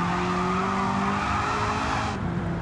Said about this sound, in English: you hear how the tires are like squealing too?